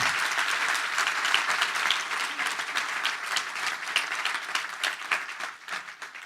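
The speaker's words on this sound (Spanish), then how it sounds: "¿No se merece un aplauso el Señor?" A church congregation breaks into loud, sustained applause in praise of the Lord, dense clapping from many hands for about six seconds that slowly tapers near the end.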